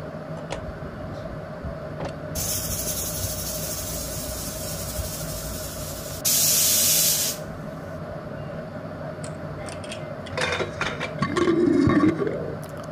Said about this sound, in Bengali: এবার প্রেসার কুকারে বসিয়ে, গ্যাসে বসিয়ে ৩-৪টে সিটি দেব